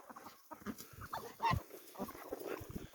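A dog barks and yelps among farm animals at a bird-feeding session, several short, uneven bursts at moderate distance, with one louder yelp near the middle.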